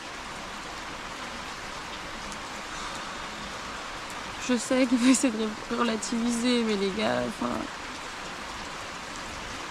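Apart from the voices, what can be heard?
rain falling on a tent campsite, Wayag, Raja Ampat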